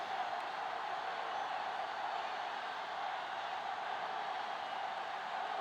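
Stadium crowd noise from Madden NFL 07 on PS2 before a Titans versus Bengals game, a steady broad roar of many voices that stays even and moderately loud from start to finish.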